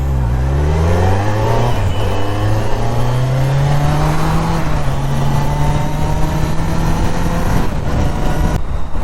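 A Kawasaki Z900 superbike accelerates on a road ride, its engine note climbing steadily through the revs, loud and close with a constant rush of wind.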